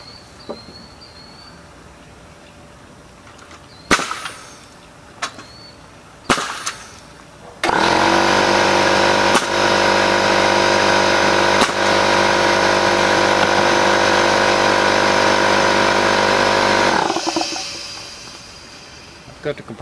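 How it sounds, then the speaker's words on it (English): An air compressor runs loud and steady for about nine seconds after a few sharp nail-gun shots during work on a DIY firewood rack, then cuts off abruptly. "Cut the compressor off so you can hear me."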